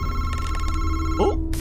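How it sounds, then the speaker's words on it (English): Telephone ringing in the horror video game MADiSON, a clear electronic ring repeating in short bursts over a low background hum before cutting off, with no talk. "Oh, phone."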